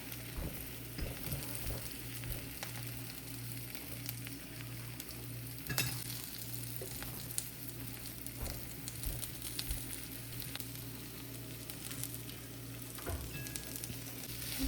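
Boiled potatoes go into a sizzling pan of spices for street-style vada pav, with a soft, continuous sizzle and light stirring scrapes over a low steady hum; the sound is fairly faint and close, with no talking.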